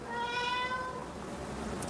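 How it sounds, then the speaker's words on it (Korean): A pet cat indoors, recently hurt from playing outside, gives one drawn-out tonal meow that fades away, with faint room noise after it. "우리 고양이가요, 너무 밖에 나가 놀더니 다쳐갖고 왔어요."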